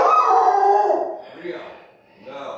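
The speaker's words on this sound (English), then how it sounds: "Is Rio barking at you" A Rottweiler puppy giving a drawn-out, howling bark, loud and close, followed by a couple of softer yips.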